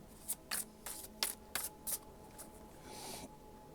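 Tarot cards with gold edging being shuffled close up, a series of sharp, papery riffles and slaps in a loose rhythm, fading into softer shuffling at the end, quiet and alone with no talk.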